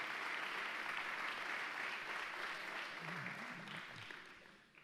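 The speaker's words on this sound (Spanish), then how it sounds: "Denle un fuerte aplauso a Jesús por esta palabra" A church congregation claps steadily in a broad, even wash of applause, fairly faint and distant, fading slightly at the close.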